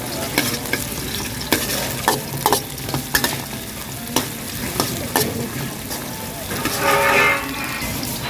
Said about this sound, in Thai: เราจะผัดหอมแดงก่อนนะคะทุกคน